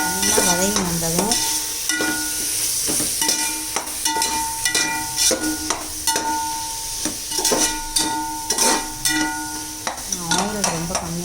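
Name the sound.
sautéing vegetables in pan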